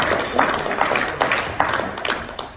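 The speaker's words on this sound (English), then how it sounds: "You can give yourselves a round of applause, thank you for joining us." A Star Wars comics panel audience at a comic con applauds in a brief, dense burst of clapping that holds steady at moderate loudness, with no voices over it.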